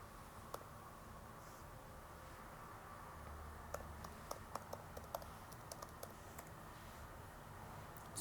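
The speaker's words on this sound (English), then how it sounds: "type in a search, Exploding Chemistry Patrick Lloyd" Typing on a computer keyboard to enter a search, a steady run of light key clicks and taps over a faint background hiss, close and fairly quiet, no one speaking.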